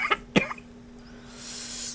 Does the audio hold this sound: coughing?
yes